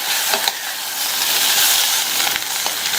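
Radish masala frying on a low flame and stirred now and then, giving a dense close hiss and sizzle with a few soft scraping stir strokes, without any talking.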